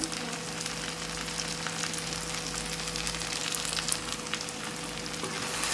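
Chicken wings frying in oil for a simple chicken fry, a steady dense sizzle and crackle with occasional stirring scrapes, close and continuous throughout with a low hum underneath.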